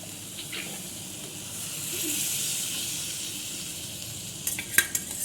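Steady sizzling of spices hitting hot oil for a moong dal tempering, a soft broad hiss that swells midway, with a few sharp crackles and pops near the end.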